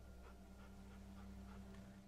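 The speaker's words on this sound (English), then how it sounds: "That looks like a dog." A dog in The Walking Dead Season 2 video game, faint and close, panting rhythmically with soft whimpers over a low background hum.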